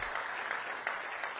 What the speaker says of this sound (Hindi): आप एक बार जोरदार तालियों के साथ उनका स्वागत और अभिनंदन करें